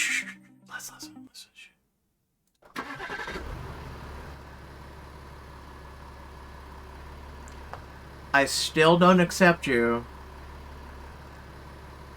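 A car engine in a video game cranks to life after a short silence and settles into a steady, low idling hum, with a brief burst of nearby talk over it near the end.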